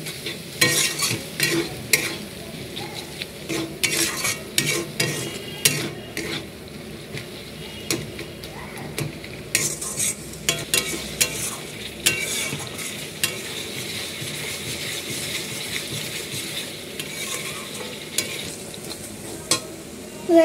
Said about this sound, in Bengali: লঙ্কা গুঁড়ো, জিরে ধনে গুঁড়ো, এটা এখন ভালো করে কষিয়ে নেব।